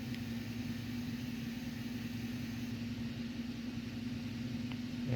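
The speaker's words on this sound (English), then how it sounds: "Number 5 is misfiring." A 2011 Cadillac CTS engine with a cylinder 5 misfire runs at idle, a steady low hum with a constant drone and faint irregular roughness, close and fairly quiet.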